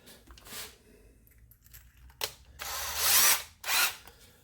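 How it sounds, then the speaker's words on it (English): A power drill with a 1/8 inch bit whines up in several short bursts, the longest and loudest near the end, close by in a workshop while building a pinhead sight for a chunk gun. "I'm going to turn the drill on"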